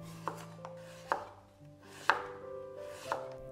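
Four spaced knife cuts through peeled taro and purple sweet potato on a cutting board, each a crisp close thunk about a second apart, over soft background music with no talk.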